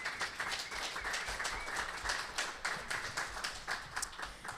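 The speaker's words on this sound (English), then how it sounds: "could we please give our senators a round of applause?" A modest audience at a student senate town hall claps for the student senators, individual hand claps audible in an uneven, moderately loud patter that stays fairly constant throughout.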